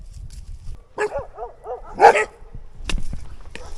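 Dogs with goats near a receded reservoir bark in a short outdoor burst: a few sharp yips, then one louder bark, followed by scattered quieter noises.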